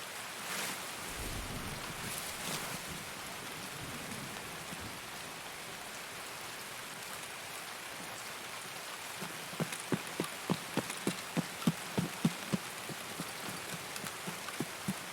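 Heavy rain pours steadily in a tactical raid shooter game, a dense, constant hiss of drops on surfaces, with a string of sharp close clicks and thuds rising over it toward the end.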